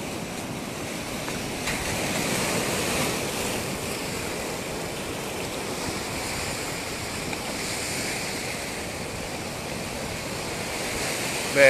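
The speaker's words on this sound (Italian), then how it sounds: "Sentite il rumore delle onde." Sea waves wash steadily onto the shore on an early morning, a continuous close rushing surf with some wind noise and no voices.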